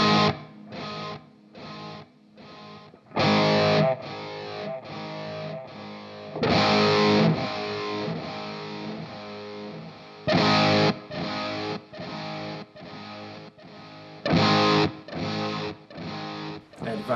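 An electric guitar with light overdrive plays through a Nux Duo Time delay pedal, with short strummed chords each followed by fading repeats that echo in rhythmic bursts between pauses.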